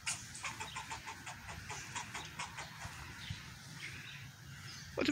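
An angry squirrel chirps from up in a tree at a cat below, giving a rapid, regular series of short, sharp calls heard from some distance on a gloomy morning, with no talk over them.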